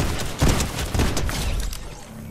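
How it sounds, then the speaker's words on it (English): Drum shotgun blasts in a video game, a few loud booming shots in quick succession, heavy and close, followed by a fading rumble. "That is a drum shotgun."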